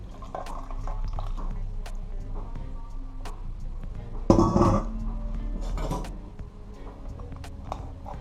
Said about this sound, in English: This is boiling water